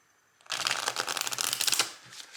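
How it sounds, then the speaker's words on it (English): Someone shuffles a deck of evidence cards for the board game Lawyer Up, making a close, continuous riffling flutter that lasts about a second and a half before trailing off. "shuffle this deck together"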